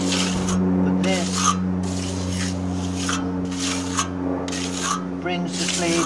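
A trowel rubs and smooths clay over a dome mould for a compound parabolic solar cooker, making repeated rasping strokes in regular bursts with a steady hum beneath.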